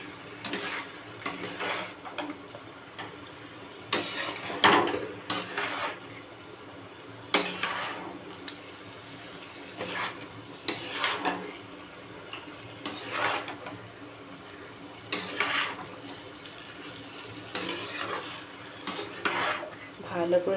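Spoon scraping and knocking against a pan while boiled jackfruit is stirred with spices, irregular clinks and scrapes recurring every second or two over a quiet kitchen background.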